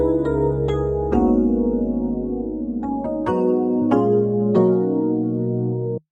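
A melodic sample from the J-Did kit plays alone, a warm sustained chord-like instrumental passage whose harmony shifts every second or so, with soft plucked accents, before cutting off abruptly.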